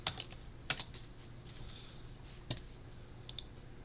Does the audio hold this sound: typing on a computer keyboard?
yes